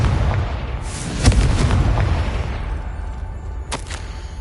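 Confringo fire spells burst in the video game Hogwarts Legacy, with a heavy rumbling blast near the start and another sharp crack toward the end over a dense, booming bed.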